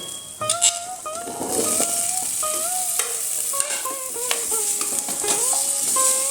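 Potato and pumpkin pieces go into spices already frying in a pan, bringing a bright, loud sizzle and hiss with stirring scrapes, while background music plays throughout.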